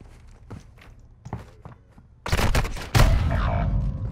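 Rapid gunfire from a Call of Duty Modern Warfare 2 match, starting with scattered thumps and footsteps, then erupting into a loud, sustained burst of shots that carries through to the end.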